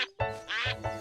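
A cartoon duck gives a quick run of nasal quacks, three bright honks packed into a second, loud and close with nothing else around them.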